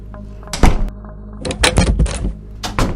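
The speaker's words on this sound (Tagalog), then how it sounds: "Kaba at takot ang naramdaman nila nang may malakas na pagsara ng pinto ang kanilang narinig." A heavy door slams shut as a sound effect, giving several loud, close wooden thuds in quick succession over a low background hum.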